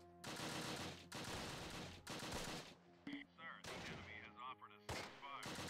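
Heavy bursts of gunfire pound a Panther tank in the WWII strategy game Close Combat, with dense loud volleys in long sustained bursts, short gaps, and smaller impacts in between, along with faint game voice chatter.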